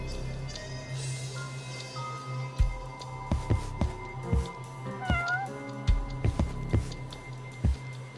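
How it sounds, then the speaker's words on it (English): Cat meowing in the video game Judgement, several short, close meows spaced irregularly over a quiet ambient background, with no one talking. "Oh, there's a cat."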